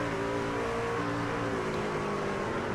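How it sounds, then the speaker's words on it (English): Truck engine in an iRacing AREA Truck Series race at Mosport, revving hard and steady at close range as it climbs over a crest on the back straight, loud and continuous with no talk. "You can hear the revs even pick up on the back straightaway coming over the crest here."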